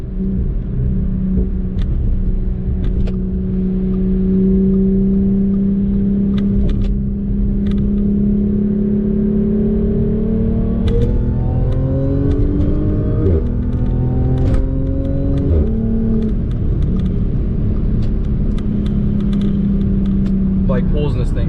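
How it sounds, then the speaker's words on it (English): Dodge Hellcat with a German setting pulling hard, a loud rising engine note and steady supercharger whine climbing in pitch through a quick partial-throttle acceleration, close and continuous inside the car. "It pulls, and that blower just whines so loud"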